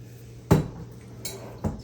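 A spoon clinks against a bowl while graham cracker crumbs are stirred into melted butter for a pie crust, giving three sharp, close clinks separated by quiet gaps, with no talking.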